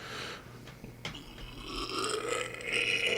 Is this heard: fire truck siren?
no